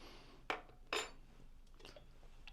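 A metal teaspoon clinks against hotel-room crockery, two quick close knocks followed by fainter light rattles in a quiet room.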